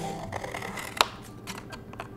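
Scissors snip through paper with soft crisp cuts and one sharper click, close by and fairly quiet.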